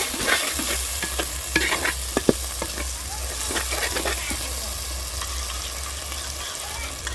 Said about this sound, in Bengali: এইবার টক দইটা ভালো করে ফেটিয়ে নিচ্ছি, যাতে জমাট বেঁধে না যায়